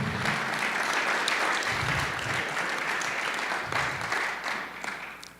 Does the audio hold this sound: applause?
yes